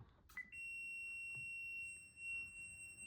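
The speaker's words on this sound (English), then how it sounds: "The meter is beeping because the circuit is closed." A continuous high-pitched electronic beep from a multimeter's continuity tone starts after a brief click of a relay closing, and holds steadily, faint and alone.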